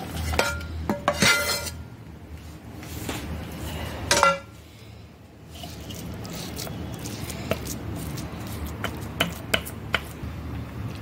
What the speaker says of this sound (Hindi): अभी चाशनी भुने हुए सिंगाड़ा आटे में डाले, अच्छे से मिलाए और इसमें डाले।